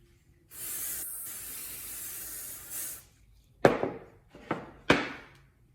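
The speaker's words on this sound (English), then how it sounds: "Just going to spray the whole thing." Glue hisses from a spray can in one steady burst of about two and a half seconds over a striker plate jig in a workshop. Three sharp knocks from handling the parts follow, and no one speaks.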